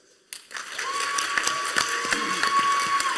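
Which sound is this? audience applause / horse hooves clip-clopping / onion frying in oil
audience applause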